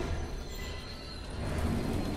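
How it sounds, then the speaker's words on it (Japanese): A low, steady rail rumble with rattling wheels that builds slightly louder toward the end as a train gathers speed, in the video game Eternights. "急に列車の速度が速くなったわ。"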